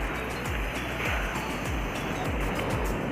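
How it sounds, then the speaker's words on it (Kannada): Sea surf rolls steadily onto a beach at Tannirbavi near Mangaluru, a dense, continuous wash of breaking water with low rumbling thumps recurring about every half second, fairly loud with no voices. "ಸೌಂಡ್ ಇದಿರ್ಬೋದು, ಯಾಕಂದರೆ ಸಮುದ್ರ ಅಲ್ವಾ"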